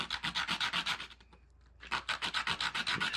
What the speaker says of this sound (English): I do have some sandpaper.